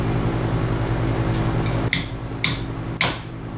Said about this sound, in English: I know you're not supposed to use this as a hammer